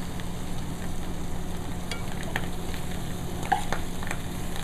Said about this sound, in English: I'm going to go ahead and throw them all in there.